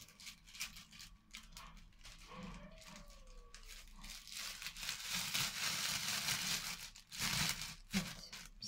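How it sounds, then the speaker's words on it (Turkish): Plastic freezer bags crinkle and rustle close by in irregular bursts, growing busier and louder toward the end, with faint background noise. "Böyle buzdolabı poşetlerimize"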